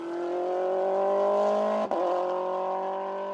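Mini rally car on a rally stage, engine roaring loud and steady at high revs as it passes close, with a brief dip and shift in pitch midway before the drone carries on.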